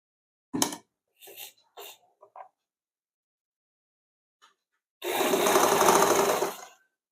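A sewing machine stitches a binding strip around a blouse neckline, with a few faint mechanical clicks followed by one close, continuous run of about two seconds.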